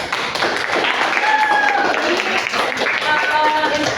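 A classroom group claps hands together in a brief burst of applause, close and fairly loud, with some taps and thumps and voices talking over it.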